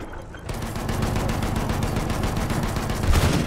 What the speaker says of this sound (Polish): Ja tu strzelam na ciebie.